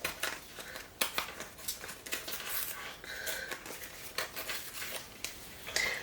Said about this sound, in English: This one, I wanted to rip the top. And then we'll rip the bottom.